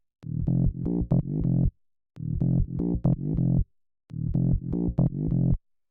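A bouncy tech house bass line plays a short run of rising plucked synth notes, repeated three times with brief gaps, clean and up front with nothing else playing.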